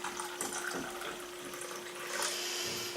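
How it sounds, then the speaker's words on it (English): Hot water pours steadily from a kettle into a cup at a breakfast table, a continuous close splashing stream for a few seconds with no talking. "I am going to add some water. It's hot."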